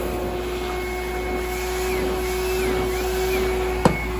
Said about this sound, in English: So that is the Oreck XL Pro 10 vacuum.